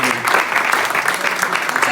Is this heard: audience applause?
yes